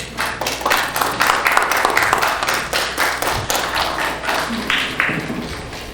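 Audience applause at a congress in Mexico City, a roomful of people clapping with rapid irregular claps and taps, loud at first and tapering off slightly toward the end.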